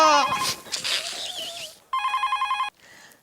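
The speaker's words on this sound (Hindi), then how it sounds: "जरूर सुंदर का फोन होगा" After some brief vocal sounds, a telephone bell rings in a rapid trilling burst for under a second, then stops abruptly.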